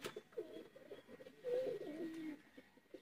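Soft, low cooing from pigeons, a few rolling coos with a longer call in the middle, fairly faint against a quiet background, no talk.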